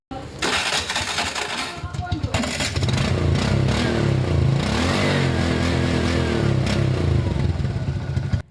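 TVS motorcycle starter motor with a cleaned Bendix drive being bench-tested, a loud steady mechanical whirring and clatter running for several seconds with talk over the start.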